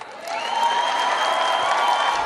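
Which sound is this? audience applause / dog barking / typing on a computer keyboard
audience applause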